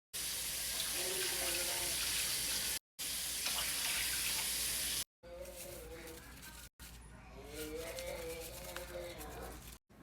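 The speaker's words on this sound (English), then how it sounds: "So we're going to put 4 cups of water." Water runs steadily from a tap into a pan, about 4 cups for gravy, with a few short breaks in the flow; no voices.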